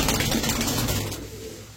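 A hand-held pigeon of a fancy breed on show for sale gives soft, low cooing against a noisy, busy background, loudest in the first second before fading a little.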